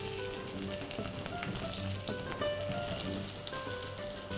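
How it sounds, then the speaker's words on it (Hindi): Boiled potatoes frying in hot oil in a pan, a dense, steady close sizzle that continues evenly throughout without pause, with no voices. "हमारा ऑयल गरम हो चुका है। इस पे मैं डाल देती हूँ पोटैटो।"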